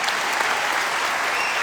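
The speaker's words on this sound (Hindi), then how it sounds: "बहुत बहुत जोरदार ताली होनी चाहिए" An audience at a live motivational event applauds loudly and continuously, a dense wash of many hands clapping throughout.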